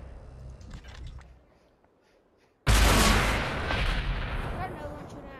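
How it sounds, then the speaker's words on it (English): Gunfire in the VR battle royale game Population One: a single loud, sharp shot bursts in suddenly after a quiet stretch, followed by a dense, sustained rumbling roar that stays loud to the end. "Do I take the shot? Okay, yeah, take the shot."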